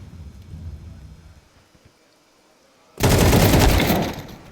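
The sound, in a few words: flashbang grenades going off in a video game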